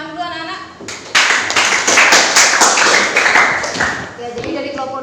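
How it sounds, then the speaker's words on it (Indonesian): A burst of applause from a group of schoolchildren in a classroom, many hands clapping together for a few seconds, with a teacher's voice speaking before and after. "Silakan beri tepuk tangan dulu anak-anak."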